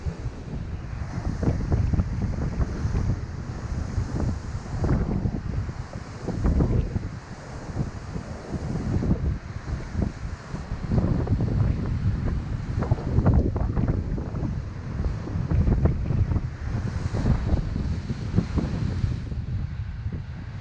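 Ocean surf along the Kauai coast, a continuous roar of waves heavily buffeted by strong wind noise on the microphone, loud and steady for the whole stretch.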